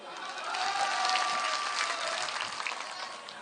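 A crowd at an AIMIM party rally in Kishanganj, Bihar claps for the speaker, a dense sustained burst of applause that swells early and holds steady before tapering slightly, with no talking over it.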